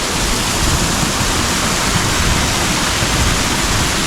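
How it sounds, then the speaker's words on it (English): A river and waterfall in Puck's Glen, heard as a dense, loud, unbroken roar of rushing water close by, steady for the whole stretch with no other sounds. "I want to try and get that river there with the waterfall here"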